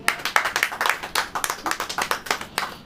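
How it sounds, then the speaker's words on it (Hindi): A church congregation claps hands together in a steady, rhythmic beat of roughly four to five claps per second, loud and close, with no speech over it. "ताली बजाइए।"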